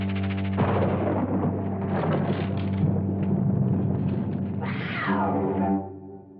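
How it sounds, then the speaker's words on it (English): A cat gives a drawn-out, loud meow with a rising and falling cry near the end, heard close and alone over a low steady hum. "Just the cat."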